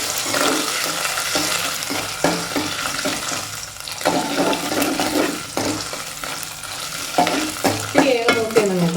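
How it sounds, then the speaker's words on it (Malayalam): Tender coconut pieces sizzle loudly and steadily in hot ghee while being stirred, with spoon scrapes and clinks against the pan. No voices are heard. "നെയ്യിലൊന്ന് വറുക്കാം"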